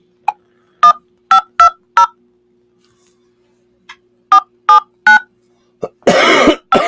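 A phone number is keyed on a Mint Mobile cell phone as a run of short, loud touch-tone beeps in uneven groups with pauses. A cough and throat-clearing follow at the end.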